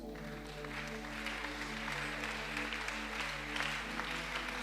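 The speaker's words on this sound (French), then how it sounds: "Tu peux ajouter à cela des acclamations." A church congregation claps and cheers during a Sunday worship service, steady applause mixed with sustained music tones and a low hum, moderately quiet and continuous throughout.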